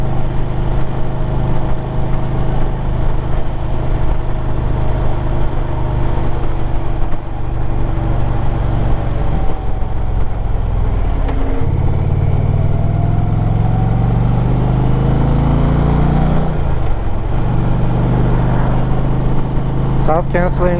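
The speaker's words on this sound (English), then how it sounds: "I'm happy with the sound of this exhaust" Loud 2023 Indian Pursuit motorcycle engine rumbling close by, exhaust droning and shifting pitch as it revs and slows, with wind buffeting and a rider talking over it.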